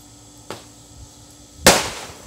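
A small leftover firework pops softly, then after about a second bursts with a sharp, loud crack and a short crackling tail, heard outdoors without talk.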